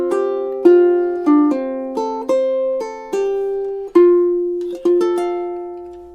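Ukulele and acoustic guitar duet on a soft melody, plucked notes sounding near and clean, the pace easing into a slowdown across the final measures, with no voices.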